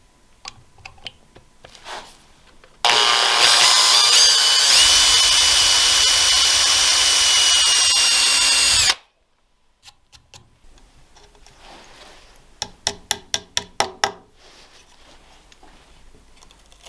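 A power tool run in reverse against guitar neck wood during a custom build whines loudly and steadily for about six seconds, then cuts off, followed by scattered clicks and a quick series of sharp taps.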